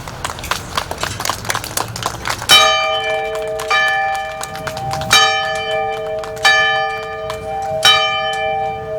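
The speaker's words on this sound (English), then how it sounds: "I'd like to ring the bell in honor of my dad" Bell rung in honor of veterans at a Veterans Day ceremony, four loud, ringing strikes spaced a little over a second apart with long resonant decay, following a stretch of scattered clattering and shuffling.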